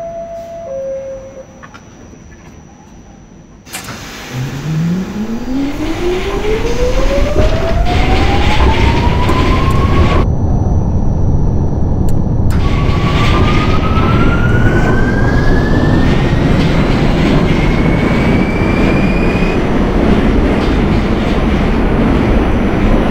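An R46 A subway train in the OpenBVE simulator, bound for Far Rockaway, pulling away loudly with a rising electric motor whine that climbs steadily in pitch over rumbling wheel noise, briefly cut by gaps.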